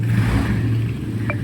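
The small engine of a 200cc UTV buggy runs close by with a low, rough rumble, steady and loud throughout the brief moment.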